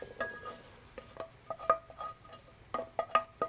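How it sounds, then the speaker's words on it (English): Mushrooms and caramelized onions stirred and scraped in a pan, with scattered scrapes and metallic clinks of the utensil against the pan bottom over a soft sizzle, close and fairly quiet, no talk. "Scrape all the bits out of the bottom."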